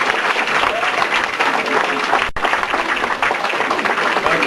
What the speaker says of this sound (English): he deserves a really good hand of applause for that speech.